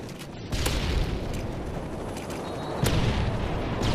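Gunfire in the video game Modern Warfare 3, sharp shots and booming reports over a constant battle din, with a louder burst midway.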